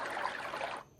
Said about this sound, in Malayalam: വെള്ളം ഒഴുകണ സൗണ്ട്